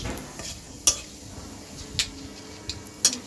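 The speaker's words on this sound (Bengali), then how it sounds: "খুন্তি দিয়ে একটু ভালো করে নাড়াচাড়া করে নেব" A metal khunti spatula stirs a pan of mourola fish sour curry, giving three sharp, spaced metallic clinks over a faint steady sizzle, with no talking.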